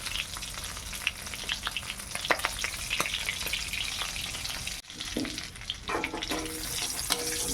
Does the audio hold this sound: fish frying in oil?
yes